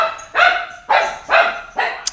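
A puppy barks protectively in loud, sharp bursts, four distinct barks spaced roughly half a second apart, close to the listener with no talking.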